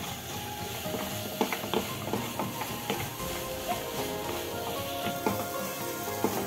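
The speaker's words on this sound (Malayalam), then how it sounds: "നന്നായിട്ടൊന്ന് ഇളക്കി വേവിപ്പിക്കാം" Plantain cooking in a pan with melted sugar, ground cumin and cardamom, stirred steadily, giving a soft sizzle with repeated scraping and clicking strokes close by and no voices.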